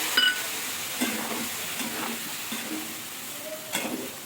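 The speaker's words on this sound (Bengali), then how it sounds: "এরপর আলু সোয়াবিন আর মশলা বেশ ভালো করে এটা কষিয়ে নেব" Potato, soybean and spices are stir-fried together in a pan, producing a moderate sizzle with scraping stirring strokes at intervals, close and continuous, with no speech.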